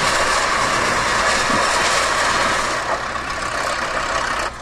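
The hoisting engine of a Bucyrus Erie steam shovel runs with a loud, continuous hissing roar and steady low rumble, close by and without pause.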